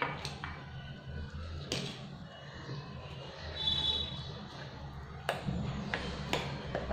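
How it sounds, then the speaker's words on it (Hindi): Besan batter stirred with water in a bowl: soft, quiet mixing noise broken by a few sharp utensil clinks. "अच्छे से मिक्स करेंगे"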